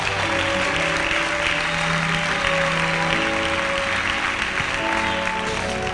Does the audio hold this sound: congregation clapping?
yes